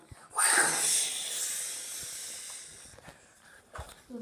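A toilet flushing nearby, a loud rushing hiss of water that swells quickly, then fades slowly, with faint knocks near the end.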